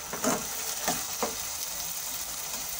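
Two spoons of oil sizzle steadily in a home kitchen pan as food fries, with a constant hiss and a few soft stirring clinks early on.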